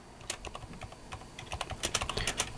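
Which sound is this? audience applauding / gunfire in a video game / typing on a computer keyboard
typing on a computer keyboard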